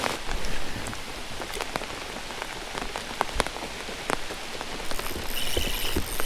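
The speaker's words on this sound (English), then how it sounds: "The rain honestly feels good." Steady rain patters on surfaces outdoors during a hot-weather fishing trip, a dense even hiss scattered with distinct nearby drop taps, with no talking.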